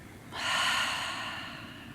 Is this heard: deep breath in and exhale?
yes